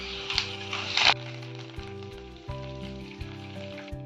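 Curry leaves, garlic and dried chillies sizzle and crackle in hot oil for tomato chutney, with a loud burst of spitting near the start settling into a steady fry.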